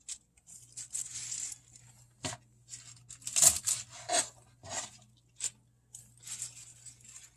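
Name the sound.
cutting stems off wild edible plants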